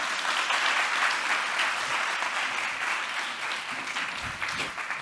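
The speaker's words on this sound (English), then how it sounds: "another big round of applause, please" A crowd claps steadily at a branding talk, a dense, moderately distant wash of applause that holds evenly for about five seconds before thinning slightly at the end.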